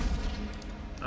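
Tangent Attack weapon firing in ShellShock Live: a short, loud, booming blast with a rumbling low end, heard alone.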